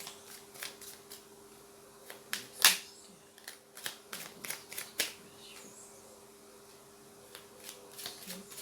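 Cards from a small angel oracle deck are shuffled and drawn, giving soft papery flicks and snaps in irregular bursts, one sharper slap standing out, over a faint steady hum in a quiet room.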